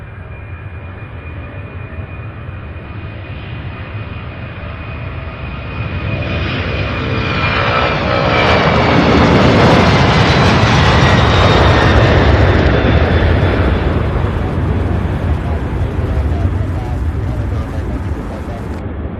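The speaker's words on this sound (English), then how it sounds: "This is 767." A Boeing 767 airliner takes off at Louisville International Airport, its jet engines roaring and swelling louder over several seconds to a sustained broadband rumble, with voices talking faintly underneath.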